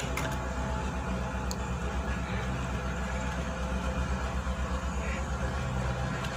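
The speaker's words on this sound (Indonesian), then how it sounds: "ini suara eskavator sangat bising sekali" Loud, continuous mechanical rumble of an excavator digging close by, a steady low engine drone with clanking and scraping layered on top.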